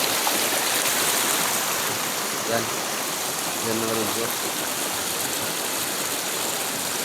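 Clear river water rushes steadily over rocks, a loud, constant broadband wash filling the whole clip, with someone speaking briefly over it.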